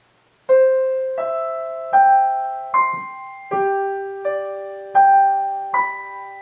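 Two measures of Pachelbel's Canon on piano, eight struck notes in a steady, unhurried rhythm, each ringing into the next, close and clean with no voices.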